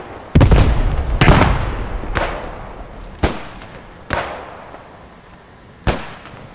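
Sturmgewehr rifle firing in the video game Post Scriptum, a series of sharp, loud shots at uneven intervals, two closely spaced at the start and then single reports with ringing tails.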